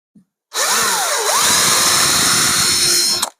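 A power drill fitted with a steel bit runs at high speed while boring into a marked spot, giving a sharp spin-up followed by a steady, loud, close whine that cuts off abruptly.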